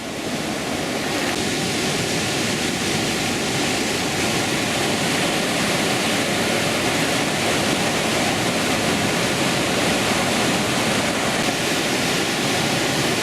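Water pours through a flooded passage near Bormes-les-Mimosas, a loud, unbroken rushing roar that fills the space close by and never lets up, with no voices.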